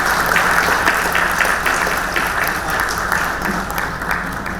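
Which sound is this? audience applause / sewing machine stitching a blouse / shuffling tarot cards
audience applause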